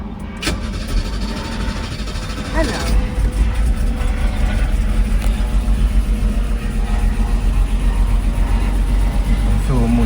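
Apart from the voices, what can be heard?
Mercedes R107 280SL engine starting and running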